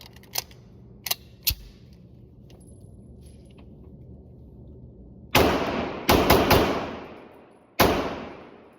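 Sig P210 (P210A) pistol firing at an outdoor range: a few faint clicks, then four loud, sharp shots in an irregular group, each with a short ringing tail.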